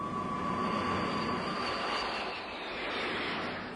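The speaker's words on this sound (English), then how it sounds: "Flying round the clock, its planes tried to slow the advance." Military planes of the US 7th Fleet during the Korean War, a sustained aircraft engine roar with a steady high whine, moderately loud and swelling slightly as if passing overhead, no voices.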